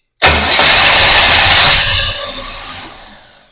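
A 1966 Pontiac engine fitted with an Edelbrock carburetor cranks loudly and roughly for about two seconds without catching, then the noise fades away in a trailing decay.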